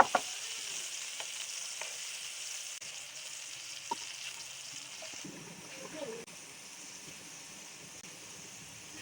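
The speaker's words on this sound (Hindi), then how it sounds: "तो अब हम इसमें ऐड कर देते हैं टमाटर का पेस्ट। बिस्मिल्लाहिर्रहमानिर्रहीम। टमाटर को भी अच्छी तरह से भूनेंगे।" Tomato paste fries with onions in a pan for a tawa chicken karahi. It gives a soft, steady sizzle with occasional stirring scrapes and light clicks, quiet and close.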